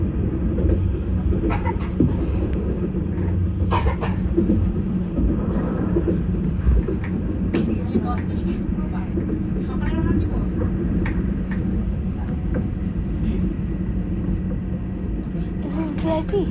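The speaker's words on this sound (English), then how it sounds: "I never felt this train." Riding aboard a train in Switzerland: a steady low rumble and rolling hum of the carriage throughout, with scattered clicks and rattles, while people talk over it.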